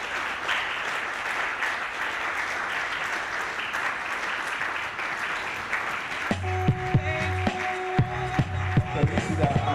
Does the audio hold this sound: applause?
yes